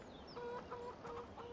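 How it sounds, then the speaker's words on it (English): Farmyard chickens in the Upper Mississippi River Valley give soft, repeated clucks, four or five evenly spaced calls, faint and slightly distant over low background noise, no voices. "Chicken's hush."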